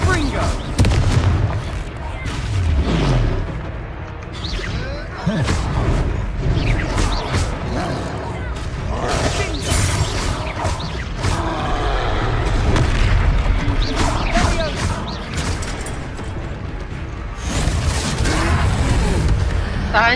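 Heavy booming blasts from the Confringo fire spell in Hogwarts Legacy go off repeatedly during a battle, loud impacts with rumbling tails, mixed with game voices and talk.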